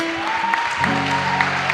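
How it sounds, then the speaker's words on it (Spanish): A church congregation gives a brief burst of applause for the Lord, scattered clapping over sustained keyboard chords. "dale fuerte ese aplauso al Señor"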